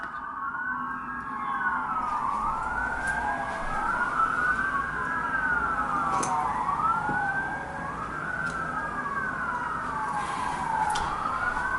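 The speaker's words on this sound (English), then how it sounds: "Gotta love the sirens of the night" Emergency vehicle sirens wailing at night in a suburban city, several overlapping rising and falling tones that sound moderately distant and continuous, with faint background hiss and no talking.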